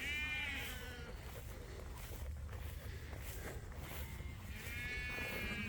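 Sheep bleat on a farm, with thin wavering calls at the start and end over a steady windy outdoor rumble.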